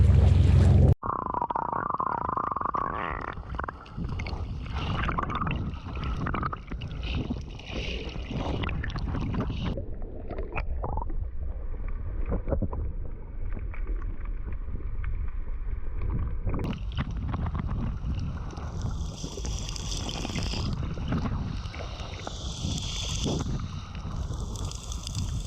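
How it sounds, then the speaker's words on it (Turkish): Speedboat cruising across open sea between Thai islands, a constant loud roar of engine and rushing water with heavy wind buffeting the microphone, no voices. "Ve sürat teknemiz yolculuğuna devam ediyor."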